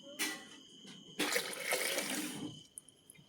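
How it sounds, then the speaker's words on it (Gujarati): About one and a half glasses of water are poured into a pot to boil potatoes, heard as a short splash followed by a longer, steady pour that fades out near the end, close and quiet, with no speech. "દોઢ ગ્લાસ પાણી નામી દીધું છે"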